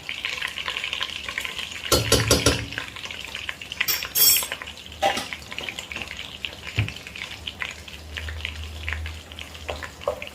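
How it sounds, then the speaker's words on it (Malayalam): Two tablespoons of flour stirred into melted butter in a pan for a pasta white sauce, with soft scraping and a light sizzle, a louder burst of stirring early on, then a low steady hiss with no voices. "എല്ലാം കൂടി ഒന്ന് ഇളക്കി യോജിപ്പിച്ച് കൊടുക്കുകയാണ്."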